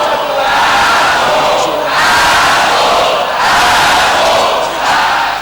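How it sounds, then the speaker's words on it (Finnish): A large Finnish wrestling crowd booing at a VPW Culture Shock show in 2003, a loud, sustained roar of many voices that surges and dips in broad waves. "suomalainen yleisö buuaa näin isolle jätkälle paljon hiljempaa"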